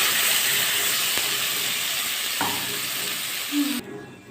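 Fried onions and a ground spice paste from the mixer hiss and sizzle steadily in a hot pan for egg curry, loud and close, with a brief clink of a utensil near the end.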